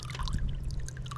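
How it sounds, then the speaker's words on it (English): Water trickles and pours from the outlet of a self-pumping outdoor water filter processing grey waste water, a soft continuous dribble with faint splashing and no voices. "the water's coming out"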